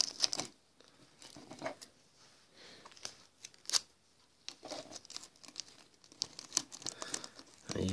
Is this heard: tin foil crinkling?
yes